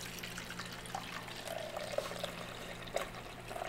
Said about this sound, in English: Then I pour that water into the coffee maker.